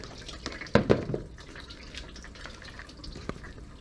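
Radiator coolant drips and splatters after a drain plug popped off during a radiator leak repair, a brief cluster of wet splashes near the start followed by scattered faint drips.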